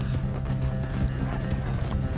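Horse hooves pounding in a steady gallop in Red Dead Redemption 2, a continuous clip-clop rhythm set against a dense, busy backdrop of game noise, with no talking.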